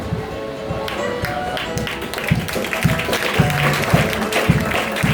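Steady clapping rises from an audience at a family testimony gathering, with voices mixed in throughout.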